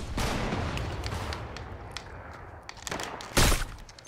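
Fortnite gunfire in one-shot mode: dense rattling shots and blasts fill the scene, with a louder close report near the end.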